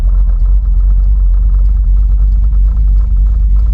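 A Dodge Dakota R/T engine idles very low and rough at a stoplight, a loud, continuous close rumble that sags as if about to stall and then steadies.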